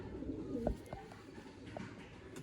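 Fancy flying pigeons kept for pigeon breeding and sale coo softly a few times, short low calls over a faint background murmur.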